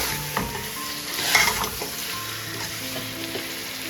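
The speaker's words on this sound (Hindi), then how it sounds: "इसको करना है हल्का सा फ्राई। और इसके साथ ही मैं इसमें मैंने डाल दिया है जीरा" Cumin seeds frying in a pan for butter chicken, a steady close sizzle with light stirring scrapes and a brief louder burst midway.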